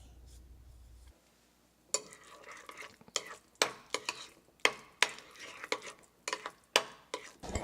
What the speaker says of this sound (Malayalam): ഇനി നമുക്ക് ഇതിലോട്ട് എടുത്തു വച്ചിരിക്കുന്ന നാരങ്ങാനീരും ആവശ്യത്തിന് ഉപ്പും ഇട്ട് നന്നായിട്ട് മിക്സ് ചെയ്യണം.